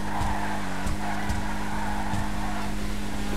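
Car accelerating with tires skidding in a GTA RP race video game, a steady engine drone with brief squeals and thumps, loud and close.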